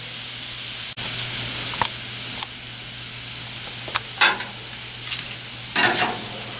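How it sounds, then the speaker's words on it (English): Pork tenderloin sears on a hot grill with a steady, close sizzle, broken by a few sharp crackles and brief hissing bursts of spattering fat. "But you see, we can get some good sear on it."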